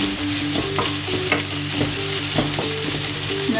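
A pinch of turmeric powder heats in a frying pan with wilted ingredients, sizzling loudly and continuously while a spoon stirs with soft scraping strokes, no voices present.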